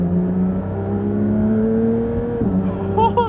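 A Porsche 911 of the 991 generation revs through quick downshifts, a steady engine drone followed by a sharp blip and rising tone near the end, loud and close from inside the car.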